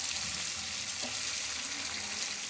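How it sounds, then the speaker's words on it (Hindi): Chicken tikka fries in a pan with a steady, loud sizzle and crackle, close and continuous with faint stirring scrapes and no talking. "चिकन टिक्का देखे फ्राई हो रहा है, इसे 1-2 मिनट और फ्राई करते हैं"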